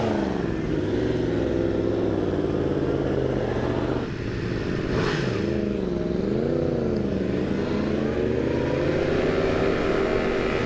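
A Yamaha FZ-07 motorcycle engine drones loud and close, its pitch rising and falling as the rider works the throttle on a group ride.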